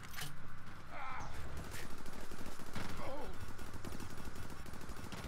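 Rapid automatic gunfire from the first-person shooter ProtoStrike runs nearly throughout, a steady mid-loud rattle of repeated shots with game effects layered in and a voice talking over it.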